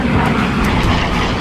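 Helldiver dive bomber in a steep dive toward the battleship Yamato through anti-aircraft fire, carrying a 1,000-pound armor-piercing bomb; a loud, steady engine roar fills the whole moment without a break.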